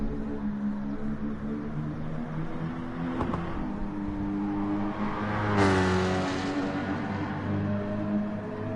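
Race car engine at Spa heard on board, a loud steady drone that shifts pitch with brief revs and gear changes, carrying under faint commentary.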